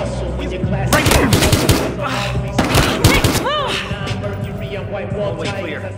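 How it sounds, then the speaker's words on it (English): Rapid bursts of automatic gunfire and single shots crackle through a shootout in the video game Battlefield Hardline, loud and continuous over a dense mix of effects and background voices. "All units, 1049. Gunfire reported."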